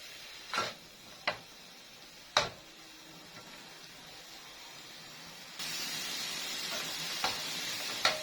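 Grated onion frying in a pan until golden makes a faint, low sizzle with a few scattered clicks and pops. Midway it turns into a brighter, fuller hiss, with no talking.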